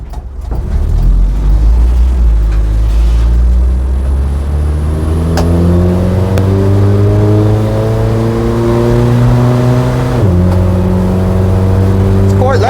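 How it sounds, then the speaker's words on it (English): A Standard Atlas pick-up with a loud exhaust accelerates hard from low speed, its engine note climbing steadily in pitch for several seconds, dropping briefly at a gear change, then rising again, loud and close from inside the cab. "It's quite loud, that exhaust."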